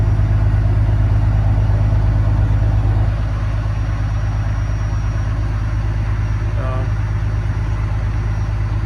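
A broken-down truck with a failed turbo runs with a steady, heavy low engine drone throughout, dropping slightly in level partway through, with no speech over it.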